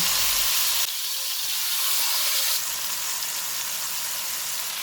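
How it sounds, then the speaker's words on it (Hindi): Chicken pieces laid into hot oil in a pan over a medium flame give a loud, steady sizzle that flares up and stays constant throughout, with no voices. "ऑयल गर्म हो गया, इसमें चिकन के पीसेस रखेंगे।"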